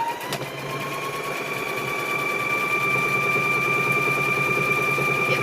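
A sewing machine stitches down quilt square fabric with a steady, continuous mechanical whir and fast needle rhythm, close by and uninterrupted.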